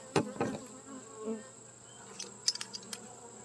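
Honey bees at a young hive during an inspection, a faint buzz running beneath a few close handling knocks and clicks, with a couple of louder brief thumps near the start and light ticks later.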